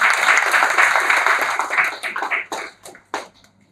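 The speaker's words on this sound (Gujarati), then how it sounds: "આપણે જોરદાર તાળીઓ તેમને વધાવીએ" An audience claps for a speaker being welcomed at an Ayurveda and yoga health event. The applause is dense and sustained, then thins into scattered, separate claps before it fades out.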